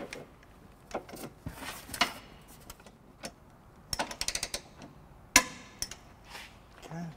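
Torque wrench with a 19 mm socket tightening the six bolts of a trailer hitch on a 2010 Scion xB, giving a series of sharp metallic clicks and ratchet snaps in irregular bursts, close and fairly quiet.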